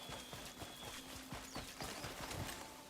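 A horse galloping in a video game, quick rhythmic hoofbeats in a steady clip-clop pattern, faint and unaccompanied by speech.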